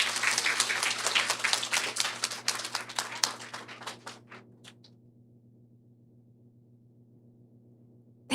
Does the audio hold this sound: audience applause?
yes